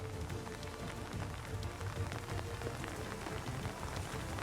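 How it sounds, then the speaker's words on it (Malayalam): Rain patters steadily on a surface in Alappuzha, Kerala, during extremely heavy monsoon rain, fairly soft and even, with scattered drops standing out against the constant wash. "ഇന്നലെ തുടങ്ങിയ മഴ ഇന്നും തുടരുന്നു"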